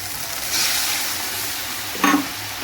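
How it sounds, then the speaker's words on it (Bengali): Spice masala, including red chilli and Kashmiri chilli powder, is stirred in a frying pan with a little water. A soft sizzle runs beneath the scraping, with a louder splash of sizzle near the end. "ভালো করে মশলাটা মিশিয়ে নেব। আর দেবো সামান্য একটু জল।"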